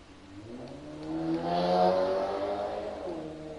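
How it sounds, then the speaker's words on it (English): A loud car engine revs up and holds a droning, rising tone for several seconds, passing fairly close with no talking over it. "Loud-ass car."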